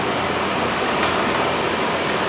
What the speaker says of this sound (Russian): Короче, капает у меня тут вообще же по-жесткому. Потек потолок.